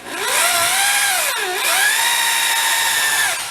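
A buffer polishes a car headlight under medium pressure, a sustained whining tone that rises and dips in pitch as the load changes, loud and close throughout.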